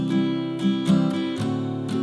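An acoustic guitar plays the short B-section riff of a song in a beginner lesson, with a few quick plucked notes and chord changes over about two seconds, close and clear with no voice.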